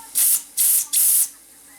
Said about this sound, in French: je vais vider un tout petit peu de vapeur pour être sûr